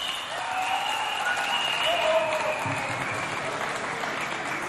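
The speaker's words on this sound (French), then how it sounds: "Bon, applaudissez pour eux." Audience applause from a crowd at a Chad Republic anniversary event in Fort Archambault, honoring slam poets, a steady dense clapping wash lasting several seconds without pause.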